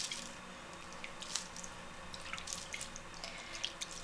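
A spray bottle mists soapy water over material laid out on a template, giving a steady run of short, close hissing squirts with no speech.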